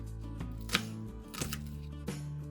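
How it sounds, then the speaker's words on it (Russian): A handful of knife chops through an onion on a cutting board, spaced irregularly, with steady background music underneath. "Еще нужно нарезать одну крупную луковицу"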